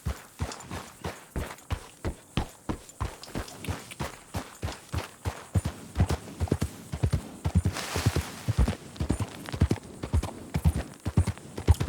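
Horse hooves clip-clopping in the video game Red Dead Redemption 2, a steady, evenly paced walking rhythm of sharp hoof strikes that continues throughout, close and clear, with a brief breathy snort partway through.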